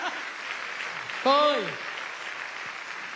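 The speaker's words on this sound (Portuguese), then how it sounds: "Pode aplaudir!" A church congregation applauds during a woman's marriage testimony. A steady wash of clapping runs throughout, and a speaker's voice cuts in briefly over it.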